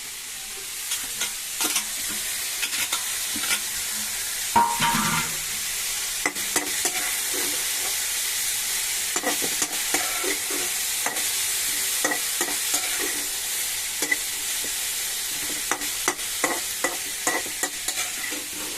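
Chopped, washed cabbage is tipped into a hot pan and fried for a roti pachadi. It gives a steady, close sizzle with scattered stirring clicks and scrapes, sounding alone with no talk.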